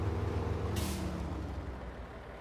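A truck in a video game gives a sharp hiss of its air brake over a low, rumbling engine idle, the brief release standing out near the start.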